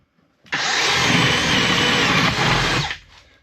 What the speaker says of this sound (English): A 90-degree drill. I'll just put it on the mark.